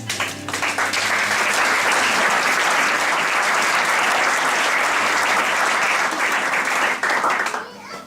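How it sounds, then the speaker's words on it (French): A church congregation applauding together, a dense, loud, sustained wash of clapping that lasts about seven seconds before tapering off. "Acclamons la parole de Dieu."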